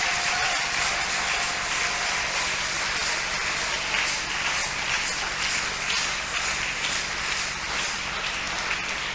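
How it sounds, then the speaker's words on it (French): Church congregation at a family harmony gathering applauding and cheering, a dense, steady wash of clapping that fills the room without a break, loud and continuous with no speech over it. "Célébrer ça par des acclamations, des applaudissements."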